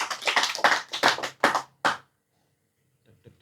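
An audience claps in a short burst of about eight quick, distinct claps that stop abruptly, followed by near silence and a couple of faint taps.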